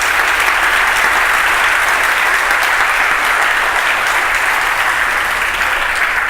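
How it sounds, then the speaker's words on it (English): Conference audience in a hall applauding the event sponsors, a loud, steady wash of clapping from a large crowd that continues throughout without pause. "So please do give them all a round of applause for making this a lovely spot."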